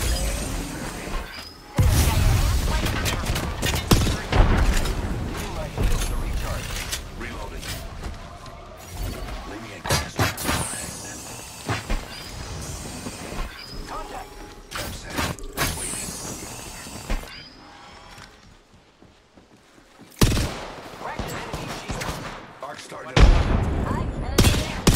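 A Mastiff shotgun fires in the video game Apex Legends. Loud, close blasts come in repeated bursts amid other in-game gunfire and impacts, with a player talking throughout.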